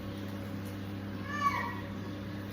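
A male cat meows outdoors, one short drawn-out call rising faintly over a steady low hum in the background.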